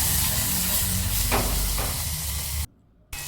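Garlic cloves frying in oil for a cluster bean dish, a continuous close sizzle with faint stirring that cuts out abruptly near the end before briefly resuming.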